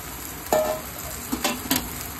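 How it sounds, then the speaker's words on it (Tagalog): Udon noodles and vegetables sizzle in a pan while a utensil stirs them, giving a few short scraping strokes over a soft steady frying hiss. "Haluin natin ng konti."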